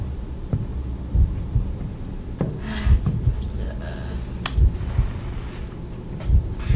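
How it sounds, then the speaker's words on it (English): Heartbeat sound effect in the horror video game Dungeon Nightmares, a steady run of low, soft thumps pulsing every second or so beneath a dark droning ambience, with some faint clatter. "The heartbeat's kind of overdoing it"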